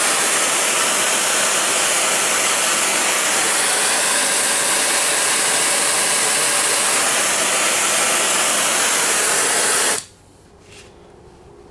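A gas welding torch melting filler rod while making melting dish tongs: a loud, steady, broadband roaring hiss of flame close by for about ten seconds, then cutting off abruptly to quiet.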